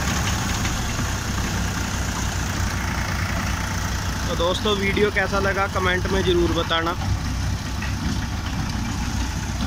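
A tractor-driven soil loader, a machine for filling trolleys with earth, idles with a steady low engine rumble throughout while someone talks over it.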